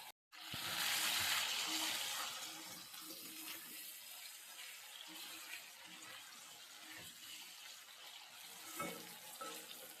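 Close sizzling and hissing of heron meat frying in oil, a steady crackle with occasional stirring scrapes; no one speaks.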